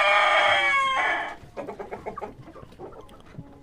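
Jersey Giant chickens on a farm: a loud, near crowing call opens, followed by a string of rhythmic clucks and soft murmurs from the flock.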